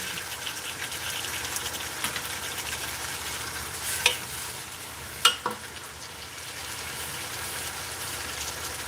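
Sautéing in a mix of vegetable oil and olive oil for fresh tomato and basil pasta, a steady, even sizzle throughout with a few sharp utensil taps near the middle, close and fairly quiet, no one talking.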